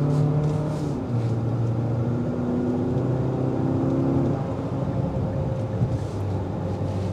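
A 2025 Infiniti QX60 with a turbo four or V6 accelerating in sport mode onto the interstate, a steady engine drone with rising and stepping tones as it climbs through the gears, under constant road and wind noise.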